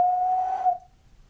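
A person whistles one steady sustained note for under a second, close and clear, then it cuts off into quiet.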